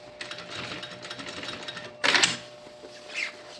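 Sewing machine stitching a seam on a backpack panel, a continuous fast mechanical whir held for about two seconds, then a louder clattering burst and a softer short run, close up with no talking.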